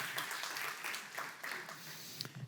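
Church congregation applauding during a Spanish-language sermon, steady mid-distance clapping filling the short moment at a fairly low level.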